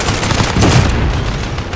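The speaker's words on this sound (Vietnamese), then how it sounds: "Nó vô chỗ em nè, để test súng coi" Gunfire from a test-fired gun in Call of Duty: Warzone, a dense, loud burst of overlapping shots and booms filling the whole moment without a break.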